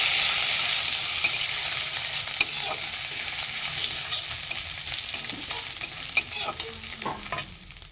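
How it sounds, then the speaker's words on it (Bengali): Ginger and cumin sauté in hot oil in a pan with bay leaf for a mung dal and ash gourd dish, giving a steady close sizzle and frying hiss with occasional stirring scrapes, no talk. "আদা গ্রেট করে দিয়েছি জিরেও দিয়ে দিলাম দিয়ে আমি এটা একটু কষিয়ে নেব"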